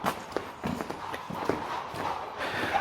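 Hooves of a carriage horse clop in an uneven walking rhythm at moderate distance in a Jordanian street, with faint crowd murmur and ambient bustle behind.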